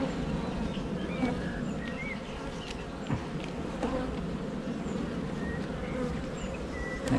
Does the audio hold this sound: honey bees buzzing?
yes